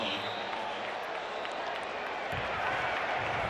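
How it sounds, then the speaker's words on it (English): A stadium crowd roars at a Virginia vs Louisville college football game, a dense and continuous wash of cheering that swells toward the end, with a voice talking over it. "Crowd got into it so much we couldn't hear the whistle"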